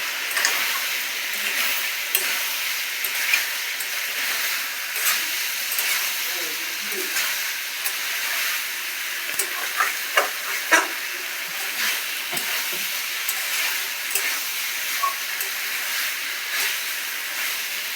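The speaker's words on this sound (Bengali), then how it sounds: "মশলায় তেল ছেড়ে দিয়েছে, এবার দিয়ে দেবো সোয়াবিনটা।" Soya chunks fry in hot spiced oil and are stirred in a home kitchen, making a steady, even sizzling hiss with scattered small clicks and scrapes from the stirring.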